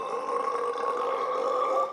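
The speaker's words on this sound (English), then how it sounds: "this movie has a burping contest" A long, continuous burp in a movie's burping contest, loud and close, with a steady droning tone held for the full two seconds and no talk over it.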